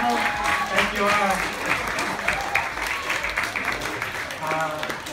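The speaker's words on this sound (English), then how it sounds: "can we get a round of applause for all these people?" Audience applause at a high school film festival for the filmmakers, sustained dense clapping filling the room, with voices and cheers mixed in underneath.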